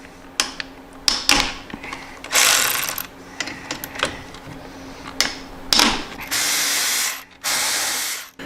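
A ratchet with a 5/16 Allen socket backs out the front brake caliper bolts on a Harley touring motorcycle, giving bursts of loud, close clicking between brief hissing sweeps, with no voices.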